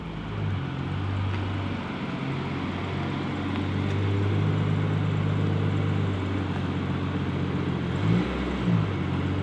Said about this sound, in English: I'll record you driving out, Reg.